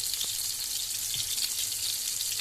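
Chopped tomatoes and their juice sizzle in a hot frying pan as a home breakfast is cooked. The frying is a steady, close, bright hiss with small crackles and pops, and no one speaks.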